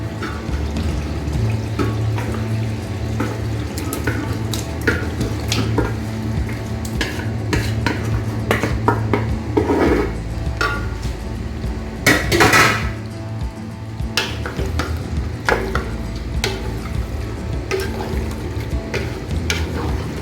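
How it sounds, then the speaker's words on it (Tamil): Peanut spicy chicken with marinated chicken is stirred in a pot, a spoon scraping and clinking against the metal over a steady sizzling simmer, close and continuous with no voices. "நல்லா கிளறி விட்டாச்சு."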